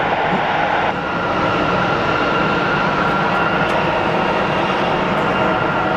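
A jet airliner landing at Phoenix Sky Harbor International Airport on runway 26, a loud, steady broadband roar of engines holding strong throughout with no voices.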